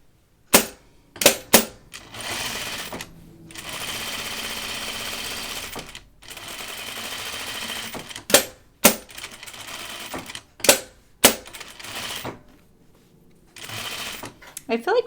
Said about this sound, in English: I'm just going to stay stitch this.